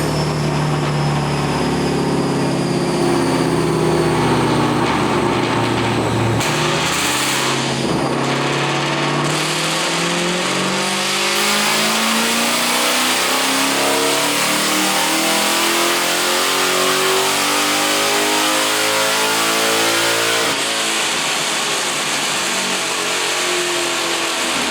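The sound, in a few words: Coyote-swapped Mustang Cobra engine revving through loud mufflers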